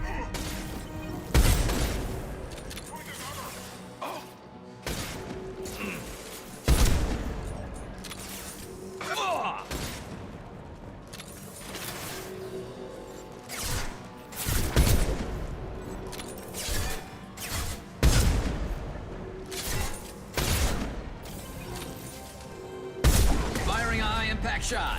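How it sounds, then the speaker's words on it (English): Gunfire in the video game Mass Effect 2, several heavy broadband bursts and booms spaced a few seconds apart over a continuous game soundscape, with voices talking between shots. "Firing a high impact shot."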